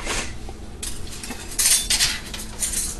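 Glass canning jars being readied for pickled peppers knock and clink against each other, giving a handful of bright, close clinks over soft handling noise.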